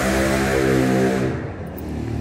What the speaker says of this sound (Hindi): उसके बाद कोई पता नहीं कौन था जो बाइक इतनी तेज लेके गया।